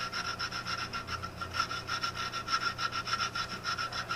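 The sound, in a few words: draw filing metal part by hand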